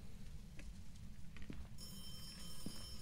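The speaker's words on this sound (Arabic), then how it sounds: "هو مين اللي بيرن رنة واحدة ده؟" A single telephone ring in a supposedly haunted house, a brief bell-like burst standing out over a steady low background hum, with no talk.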